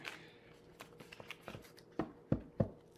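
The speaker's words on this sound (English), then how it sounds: "I got to really shuffle this up, y'all." Tarot cards get shuffled by hand in a quiet room, a series of soft riffles and taps that grows into three sharper snaps toward the end, with no talking.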